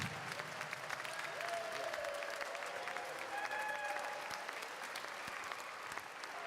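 Audience applause at a women's basketball hall of fame induction during a college championship tournament, sustained and steady for the whole stretch, with faint crowd murmur and a few whistles underneath.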